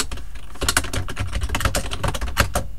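Quick bursts of typing on a computer keyboard while entering text in MS Word, with crisp, close keystroke clicks tapping in an uneven run and no talking.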